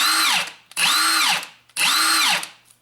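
A Milwaukee 1/2-inch impact wrench is triggered three times in a row, each a loud close whirring burst followed by the anvil spinning down in falling pitch after release.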